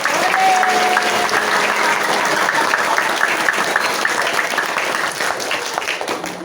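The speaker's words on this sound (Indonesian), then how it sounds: "tepuk tangan khususnya untuk kepala sekolah kita Iwayan." A school audience gathered for a Ramadan study session claps steadily throughout, dense and fairly loud, with no talking heard over it.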